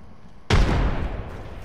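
A single sharp frag grenade blast in Apex Legends, striking suddenly after a quiet lead-in and fading into a rumbling tail.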